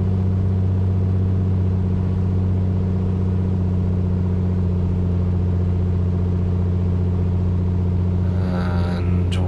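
Piper Comanche piston engine in MSFS 2020 held at a steady 1800 RPM, a loud continuous droning hum with strong harmonics and no speech, with a brief light clicking near the end.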